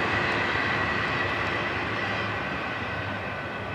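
Florida East Coast Railway train FEC 105 rolls past with a steady, broad rumble and roar of rail cars, heard from trackside at a fairly constant level that slowly eases off; no talking.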